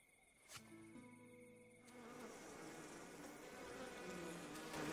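Bees buzzing around beehives in the fantasy video game Ghost of a Tale, a steady droning hum that grows louder and fuller toward the end, with no talking.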